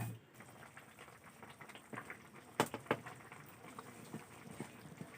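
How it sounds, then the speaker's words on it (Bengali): Spices and water simmering in a pot for chicken-bone mung dal, a soft continuous bubbling with scattered pops and a couple of sharper clinks midway, fairly faint and steady throughout. "বলক চলে এসেছে"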